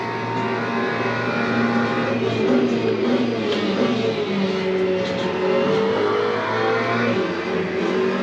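A GT3 race car engine in the sim racing game Le Mans Ultimate drones steadily at high revs, with gear changes shifting the pitch and a continuous, loud, close-up engine note throughout.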